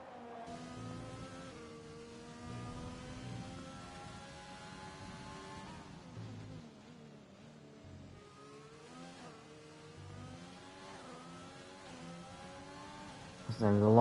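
A McLaren Formula 1 car in the F1 2020 racing game at the Great Britain round gives a steady, droning engine whine that rises and falls with revs for fourteen seconds, ending in a louder burst.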